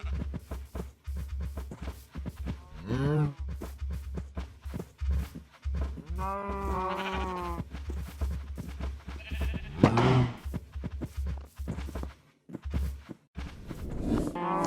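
Cows and sheep on a Minecraft farm give several game-style bleats and moos, spaced irregularly over a steady low background with no talk.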